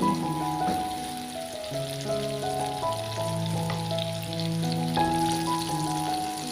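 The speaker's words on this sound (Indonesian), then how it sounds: "Kemudian aduk dan masak sampai bawangnya terlihat layu." Onions and tomatoes sizzle in a hot pan as they are fried and stirred, a steady crackling hiss running beneath sustained background music.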